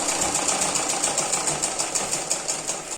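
A sewing machine stitches a seam on a hook strip for a simple blouse, running in a steady, continuous whir with even rapid pulses, close and loud, with no voices.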